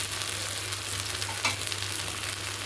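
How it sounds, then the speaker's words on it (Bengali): Mutton fries in a pan as cumin powder is added, giving a steady, dense sizzle close up throughout with a brief stir-like scrape midway. "দিয়ে দিচ্ছি জিরের গুঁড়ো।"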